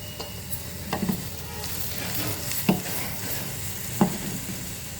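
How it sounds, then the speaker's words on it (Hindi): Asafoetida dropped into hot oil for a dhaba-style dal tadka gives a steady low sizzle with a few sharp clinks of a spoon against the pan, heard alone at moderate loudness. "थोड़ा हिंग डाल रही हूँ।"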